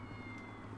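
A cat meows in Grand Theft Auto V, a faint call buried under a steady wash of game background noise and hum.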